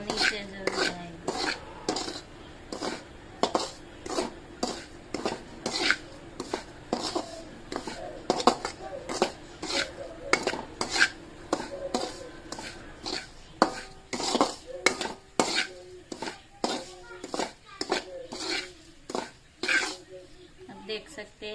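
A metal spoon scrapes and clanks rhythmically against a pan while semolina (rava) halwa is stirred, sharp repeated knocks spread through the whole stretch, with occasional faint throat sounds.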